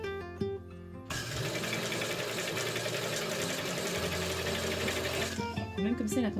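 A sewing machine stitches smocking with shirring elastic. Its fast, even whir runs loud and close for about four seconds. Someone speaks French just before and just after it.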